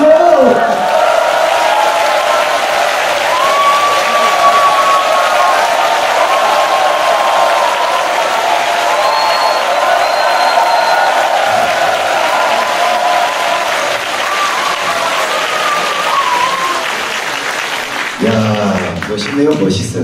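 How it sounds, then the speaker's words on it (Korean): A live audience at an offline talk show broadcast gives sustained applause, a dense wash of clapping with some cheering that carries on steadily before fading near the end. "저들의 박수."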